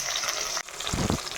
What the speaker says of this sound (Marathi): टोमॅटो फ्राय करायला टाकते.